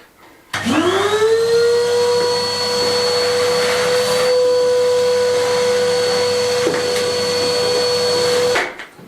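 A vacuum cleaner clears renovation mess in a restored 150-year-old Spanish finca, starting abruptly and running as a loud, steady whine with a constant high motor tone for about eight seconds before cutting off.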